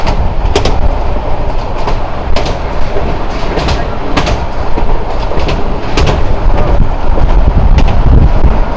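The Sagorika Express, a local train on metre gauge double track, runs fast with a loud continuous roar. Sharp wheel clacks punctuate it irregularly, and wind buffets the microphone throughout.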